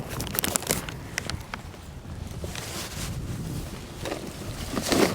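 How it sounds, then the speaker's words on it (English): Cold wind blows outdoors over a clay field being limed for seeding, a moderate rushing buffet against the microphone with a few sharp knocks and rustles. "It is windy and cold out here today."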